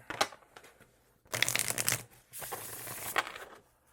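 Close, crisp riffling and flapping of a deck of cards being shuffled, in two quick bursts with a short pause between.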